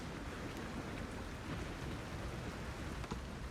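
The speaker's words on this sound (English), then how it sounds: "At the end of your sentence is punctuated by a loud crack of thunder." Rain falling steadily outdoors in Scotland during a thunderstorm, a dense even hiss with a faint low rumble beneath, no voices.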